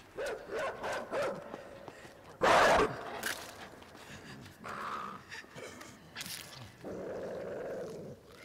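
A dog growls and attacks in the game INSIDE, with a series of short snarling bursts and one loud harsh lunge amid scuffling and breathy gasps.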